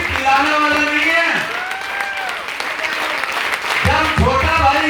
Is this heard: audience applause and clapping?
yes